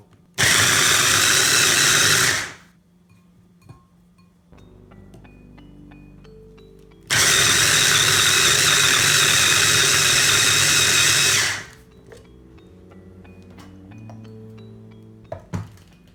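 Bread pieces being ground into breadcrumbs in a kitchen blender, two loud whirring bursts of about two and four seconds with clattering and shuffling between them, no talking.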